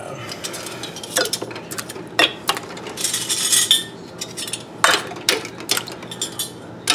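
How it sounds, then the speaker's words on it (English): Metal wide mouth canning lids clatter and clink as someone rummages through them, a series of close, sharp rattles and taps with brief pauses, no talking. "I have to get a wide mouth lid out."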